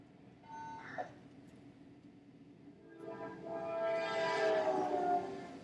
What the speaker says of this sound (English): That dip in the pitch of the train horn is